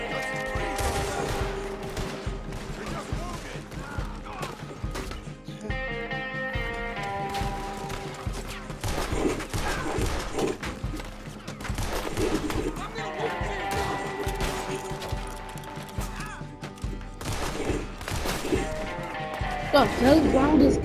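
Gunfire from the video game Red Dead Redemption 2, with repeated sharp shots and bursts spread across the clip over a busy game soundscape, with a voice talking over it.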